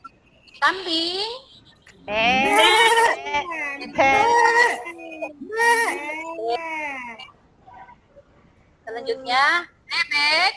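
Several people in a classroom exercise mimic a goat bleating, producing a run of wavering, nasal bleats, loud and close, in bursts with a brief quiet gap before a final pair of bleats.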